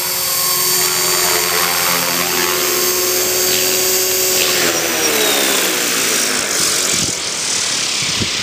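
450-size RC helicopter with carbon blades flying in to land, a loud close whine of rotor and motor holding steady before the pitch sweeps down as it descends.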